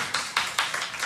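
Audience at a 2022 live concert clapping along in a steady, even rhythm, about four or five crisp claps per second, with no voices over them.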